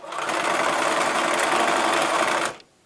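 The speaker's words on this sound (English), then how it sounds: "So I'm just going to sew the length of this strip." A sewing machine stitches along the length of a fabric strip for a nine patch quilt block, a loud close steady whirring run that stops abruptly near the end.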